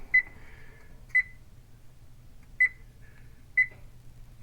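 A kitchen oven timer being set for baking cornbread gives four short, high, faint beeps at uneven intervals over quiet room hiss, with no talking.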